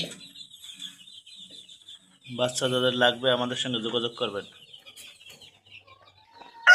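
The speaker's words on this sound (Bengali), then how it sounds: "মিশরি ফার্মি মুরগি" Egyptian Fayoumi chickens on a poultry farm in Barishal, scattered clucks and thin chirps in the background while someone speaks over them in the middle.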